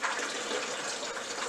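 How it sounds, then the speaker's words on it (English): Filtered water pours steadily from a filter pitcher or tap into a container in a kitchen, a soft continuous gushing splash at close range with no talking. "Put some more filtered water in there."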